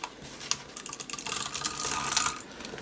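A permanent tape runner drawn along the edges of a handmade card: dense ticking and scraping clicks that build into a steady raspy run, close by, without talk.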